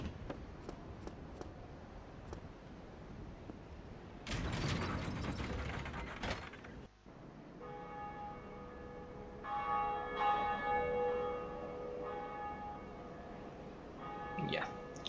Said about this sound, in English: I'm ringing the first bell